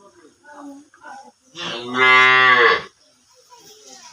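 A two-toothed bull on a Bangladeshi cattle sale farm gives one loud, drawn-out moo lasting over a second, close by, with quieter chatter and farm sounds before and after.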